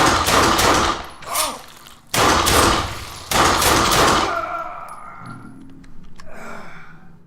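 Sniper rifle shots in the game Fallen Earth: a few loud, close cracks with sharp onsets, each trailing into a booming tail, then fading to quieter game sounds.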